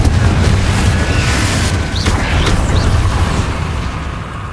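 A Confringo spell blast in Hogwarts Legacy: a loud, deep booming rumble that erupts at once and rolls on, with a few faint bright magical whooshes rising over the explosion's roar before it slowly eases.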